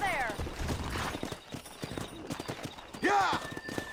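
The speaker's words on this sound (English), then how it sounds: "Let's see if we can't wrangle some horses." Horse hooves clip-clop steadily under a voice, with a horse whinnying near the start and again toward the end, in the video game Red Dead Redemption.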